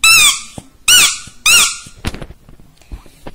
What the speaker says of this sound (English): His squeaky elephant thingy.